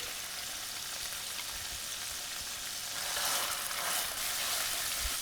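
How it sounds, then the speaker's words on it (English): Honey mustard chicken sizzles and crackles in a hot pan, a steady bright hiss that swells a little louder partway through, with no voices. "This pan has sheer flavors, perfectly bursting and sizzling."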